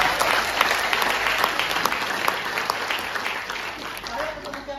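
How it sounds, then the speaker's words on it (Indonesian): A seminar audience at a property sales talk applauds with steady, dense clapping held throughout, close and fairly loud, with some crowd murmur mixed in. "Boleh kasih tepuk tangan nggak buat saya?"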